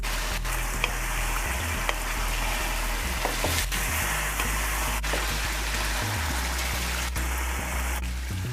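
Garlic fries in a covered pot for a Guyanese dinner, giving a steady, dense sizzle and crackle that runs alone and evenly, broken by a few faint sharp ticks.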